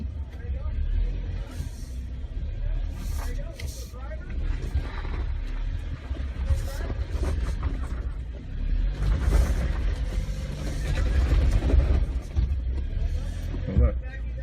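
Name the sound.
2018 Jeep Wrangler wheels spinning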